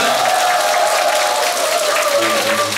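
A crowd at a community centre singing class applauds a visiting singer, loud continuous clapping from many hands filling the room, with some voices under it.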